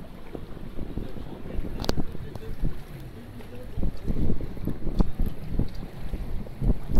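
A river cruise boat on Marina Bay in Singapore moves across the water, with steady engine rumble, wind buffeting the microphone and a few sharp knocks, no talking.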